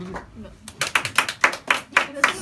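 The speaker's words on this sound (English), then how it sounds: "Round of applause" A handful of comedy club audience members clap in a sparse, irregular rhythm of distinct hand claps, fairly close and moderately loud, with crowd murmur and voices around them.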